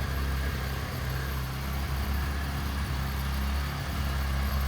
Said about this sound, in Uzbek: Motorlar bir tekisda ishlab turibdi.